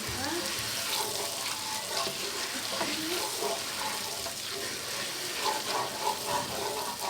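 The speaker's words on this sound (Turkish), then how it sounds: "Şöyle güzelce kavrulsun." Food sautés in a pan with a continuous close sizzle and occasional stirring, while voices murmur faintly in the background.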